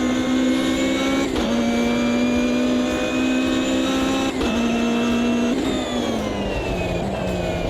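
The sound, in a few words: Ginetta race car engine in video game Automobilista 2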